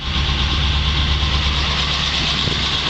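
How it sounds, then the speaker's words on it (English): A 1971 Chevrolet Camaro Z28 engine idling outdoors in cold weather, a steady, loud, low rumbling drone with an even, unbroken tone from start to finish. "Listen to the engine. The engine runs incredibly well."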